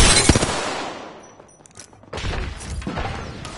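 Video game gunfire on PS4, a burst of rapid shots up close that fades out, then a second barrage of crackling fire after a brief lull.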